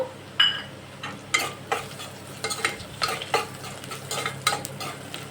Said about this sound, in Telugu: ఆనియన్స్ కొద్దిగా వేగాక అలాగే చిల్లీ అండి గ్రీన్ చిల్లీ వేగిన తర్వాత కరేపాకు